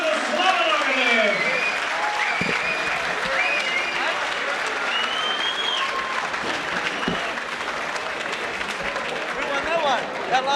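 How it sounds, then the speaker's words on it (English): A crowd at a kickboxing title fight cheers and applauds in a dense, continuous roar, with shouts and whistles rising above it and occasional thuds, loud and close throughout. "I'm sure the crowd are yelling"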